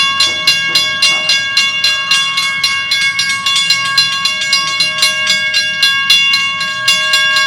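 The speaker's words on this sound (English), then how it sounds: "We have to see a train again" A train rolls past near a station, its wheels clacking in a steady rhythmic beat over the rails with a sustained metallic tonal ring, loud and close throughout with no talking.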